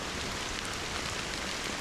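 Steady rain pours down in the video game Honkai Star Rail, a soft, even hiss of drops with no other sound standing out.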